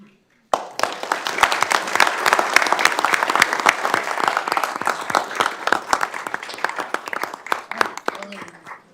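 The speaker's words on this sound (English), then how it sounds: "So I applaud all of you." Sustained audience applause fills the room at a county commissioners' regular meeting, starting abruptly after a brief pause and continuing as dense, steady clapping from many hands before tapering slightly at the end.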